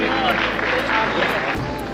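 Applause at an Akademi award ceremony, a loud, continuous wash of clapping from a seated audience, with murmuring voices from the crowd mixed in.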